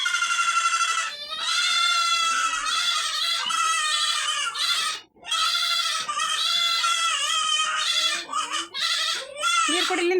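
Sheep and goats on a farm bleat in loud, repeated, drawn-out cries that run almost without a break, close by, with brief pauses and a few overlapping calls.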